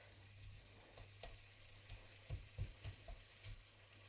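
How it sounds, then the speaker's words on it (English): Onion and garlic sizzling in a hot pan while cooking pozole verde, a steady low crackling hiss with occasional soft pops and stirring sounds, fairly quiet and close, with no talking. "I can hear the onion and the garlic starting to sizzle"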